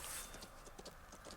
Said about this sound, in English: That doesn't sound like a Black Rider's horse.